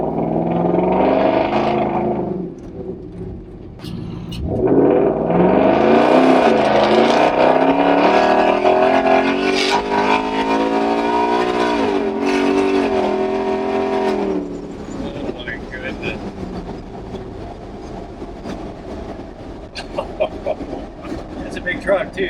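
A Ford Coyote V8 in a classic Ford Highboy truck runs at full throttle, rising into a loud sustained roar for several seconds before settling to a rumbling idle, with people talking around it.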